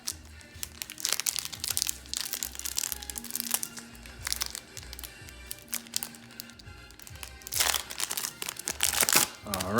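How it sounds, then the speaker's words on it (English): Crinkling and crunching of a foil MLB Showdown 2000 baseball card booster pack being torn open, close and irregular, with bursts of crackling louder near the end. "opening the last pack"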